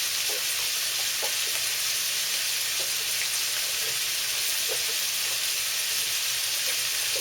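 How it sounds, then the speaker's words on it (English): Seafood soup for a low carb recipe, stirred in a sizzling pot, gives a steady close hiss and crackle of frying with faint scraping throughout, and no one speaks. "that should be a good enough stirring for now"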